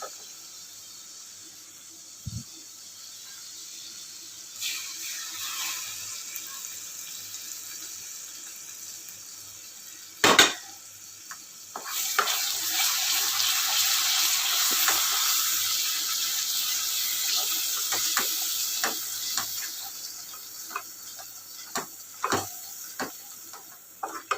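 Ground wet masala paste for a Maharashtrian chickpea curry sizzles in hot oil, a broad steady frying hiss swelling after a sharp clatter and continuing with scattered spoon scrapes and pops, fairly close, without talk.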